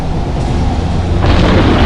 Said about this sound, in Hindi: मैंने इतना भयानक आंधी कभी नहीं देखा है।